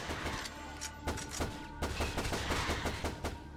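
Rapid pistol gunfire in the video game Shadowgrounds, with many sharp shots in a quick, uneven stream that runs the whole time, loud and close over a dense layer of action and enemy noise.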